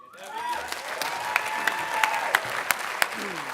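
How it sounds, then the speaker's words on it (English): A convention audience applauds its panelists, a swell of clapping and light cheering with several sharp claps standing out, as a voice speaks briefly over it. "How about another round of applause for all the panelists, you guys?"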